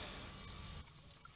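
Water from a tap flushes over an anodized aluminium vise cover, a quiet steady running splash that cuts off partway, leaving faint drips.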